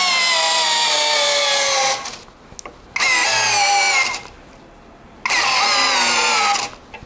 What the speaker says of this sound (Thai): ปรับไปที่หมดเจาะปุ๊บจะไม่มีการใช้คลัชละคือใช้แรงบิดสูงสุดไปนะครับ